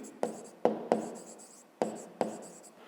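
Writing by hand during a fifth-grade maths exercise: five sharp taps of a pen on paper, each followed by brief faint scratching, close and quiet with no talking.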